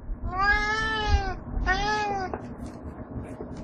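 A cat meows twice up close, two long, loud, wavering cries separated by a short pause, followed by quieter background noise.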